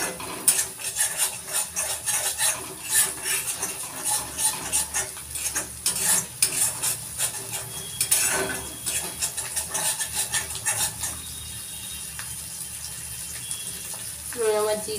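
Spices sizzle in a generous amount of oil while a spoon stirs and scrapes the pan for Bengali tel tangra fish curry, steady crackling with clinks near the mic.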